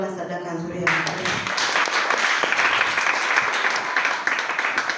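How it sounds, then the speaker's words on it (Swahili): A church congregation at a service breaks into sustained, dense clapping right after a brief spoken line from a voice, the applause holding steady to the end. "Pigie Bwana makofi mazuri tu."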